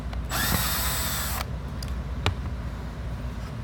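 A power drill runs in one short, loud, high-pitched whir while backing screws out of an old part, followed by quieter clicks and handling noise close by.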